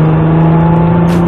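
Race cars at the Lohéac circuit, including a Porsche Cayman S and a Nissan GTR, drone loudly and steadily as they race and overtake, a constant close engine roar with a brief airy whoosh near the end.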